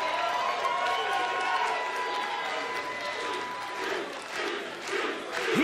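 A wrestling crowd at a Ring of Honor event roars and cheers continuously, fairly loud but a bit distant, beneath a steadily talking commentator.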